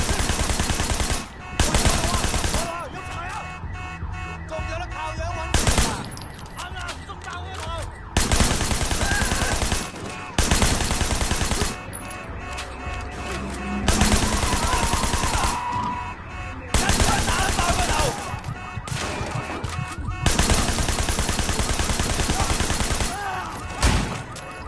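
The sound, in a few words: blind fire gunshots in video game Sleeping Dogs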